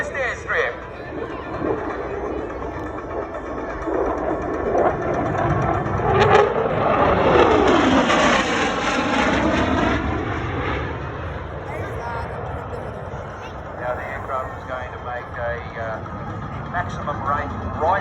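An F-35 fighter jet makes a fast low pass at close to 1,000 km/h over the Central Coast airstrip during an air show; its roar swells and fades under an announcer's voice.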